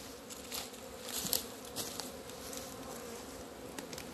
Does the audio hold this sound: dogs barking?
no